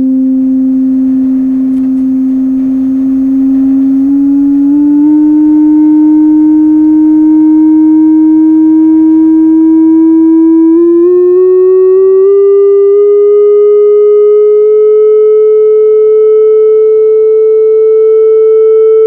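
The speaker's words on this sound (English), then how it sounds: "What I've been playing so far is a sine wave." Pure sine tone from a tone generator near C4, loud and steady, stepping gradually upward in pitch over nearly twenty seconds with no talking.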